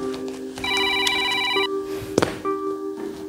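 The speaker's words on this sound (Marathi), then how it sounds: "आता ह्याचा पण फोन यायला पाहिजे होता" A telephone rings with a bright electronic tone, repeated in short patterned bursts, clear and close. A brief sharp knock sounds midway.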